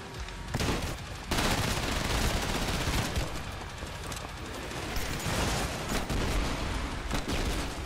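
Dense gunfire and launcher blasts during a final boss fight in the video game Trepang 2, loud and nearly continuous with heavy booming bursts throughout.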